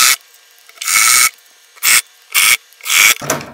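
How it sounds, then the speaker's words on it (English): An impact driver drives screws into fairly hard wood in loud, close bursts of varying length, each a harsh buzzing rattle separated by short silences. "I have my impact driver here. I'm going into some fairly hard wood."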